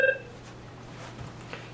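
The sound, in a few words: Avaya 9620 desk phone dialing tones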